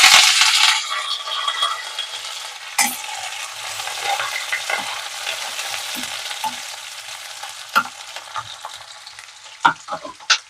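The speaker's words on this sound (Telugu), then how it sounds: "ఉల్లిపాయలు త్వరగా వేగుతాయి" Chopped onions, green chilies and curry leaves sizzle in hot oil with mustard seeds and cumin in a pan, with a steady close crackle and repeated stirring scrapes and clinks from a spoon, and no talking.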